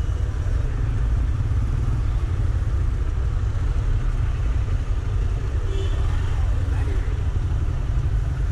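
A Hero Xpulse 200 BS6 motorcycle engine with a vibration fault runs at a steady, close idle, giving an even low rumble throughout.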